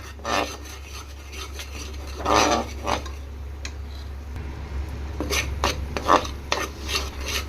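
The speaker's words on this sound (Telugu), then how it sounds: "ఈ విధంగా పచ్చి వాసన పోయి ఆయిల్ పైకి తేలేదాకా మేము బాగా మీడియం ఫ్లేమ్ మీద ఫ్రై చేసుకోవాలా" Masala paste fries in oil over a medium flame, a low steady hum of cooking under repeated rasping scrapes and stirs of a spatula across the pan, clustered in bursts.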